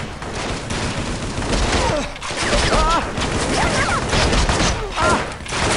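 Kalashnikov rifle fire in the Vietnam War video game Shellshock: Nam '67, a loud sustained fusillade of shots and thuds running through the whole stretch with no pauses, busy and dense.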